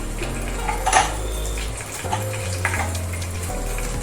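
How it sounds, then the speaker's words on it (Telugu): Mustard seeds and cumin fry in hot oil in a pan, giving a steady close sizzle with scattered crackles and a few clinks of utensil on metal. "ఆయిల్ వేడాక ఇదిగో ఆవాలు వేస్తున్నా. ఆవాలు చిట్పట్టమంటే ఇదిగో జీలకర్ర వేసుకుందాం."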